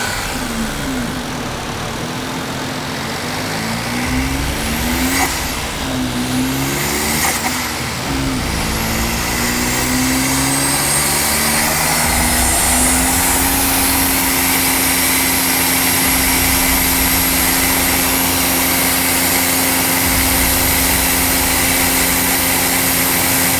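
A tuned Daihatsu Mira's engine revs steadily for a long stretch, its pitch climbing and wavering in rising sweeps before settling into a sustained high, strained drone as it sits against boost cut, loud and close.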